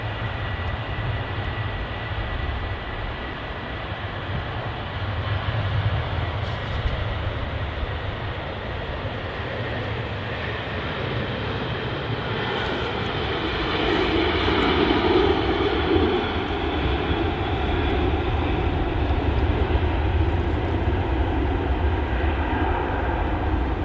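Jet engines roar from an airliner departing runway 05L at Manchester Airport, a broad continuous rumble with a hissing whine that swells slightly louder midway, heard from a distance with no talking.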